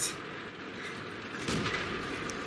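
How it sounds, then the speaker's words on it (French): A tank shell strikes the player's tank in the online game World of Tanks, a muffled boom swelling about midway through a steady, rumbling battle din, with no talking. "je me suis pris un obus là"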